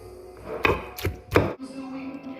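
Thai-style shrimp salad pounded in a mortar: three heavy thuds spaced about half a second apart, close and fairly loud, followed by a quiet low hum.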